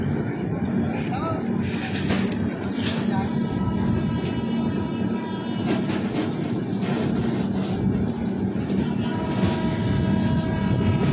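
Delhi AP Express passenger train running, running eight hours late past a derailed goods train site; steady loud rumble and rattle of the moving carriages throughout, with people talking over it.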